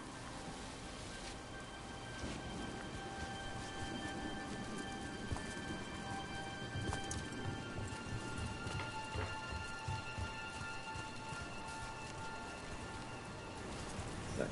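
Steady rain in the video game Dragon Age: The Veilguard, a continuous hiss of falling water with scattered drip-like taps and a low rumble underneath, even and sustained throughout.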